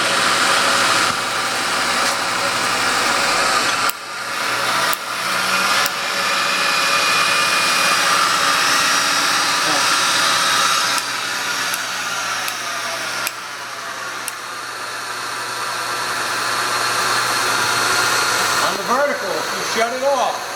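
A Sharp VH-3 vertical and horizontal milling machine runs with a loud, steady motor and spindle whine that holds through the whole stretch, with a shift in the sound about four seconds in.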